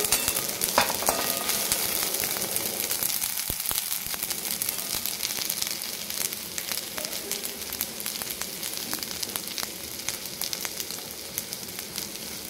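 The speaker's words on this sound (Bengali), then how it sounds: "সব মশলা দেওয়ার পরে ভালোভাবে নাড়িয়ে নেব আমি এটাকে।" Spiced flattened rice being stirred in a frying pan, with a steady broadband sizzle and the scrape of a spoon running continuously throughout, and no voices.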